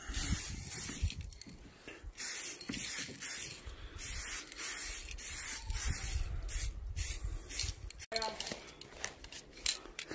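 An aerosol can sprays a blue base coat onto a bicycle frame: close, loud hissing bursts repeated in quick succession, with brief pauses and a sharp break near the end.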